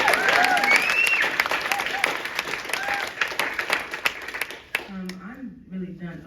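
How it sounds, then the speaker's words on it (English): Audience applause at a spoken word poetry event, dense steady clapping from a crowd that fades out toward the end, with talk and a voice over it. "let's give another clap for Stephen"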